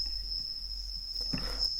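A Serum 2 synth patch produces a cricket-like atmospheric effect: a thin, sustained high whine with faint scattered chirps and a soft low drone, moderately quiet and alone.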